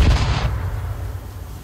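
Grenade blast in the video game H1Z1, a single booming explosion at the start with a low rumbling tail that decays over the next second.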